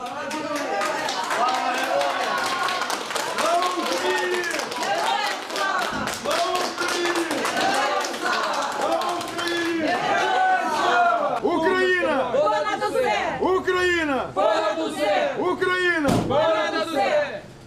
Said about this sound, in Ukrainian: Василя Примака та Олександра Головаху проводжали оплесками та символічними закликами.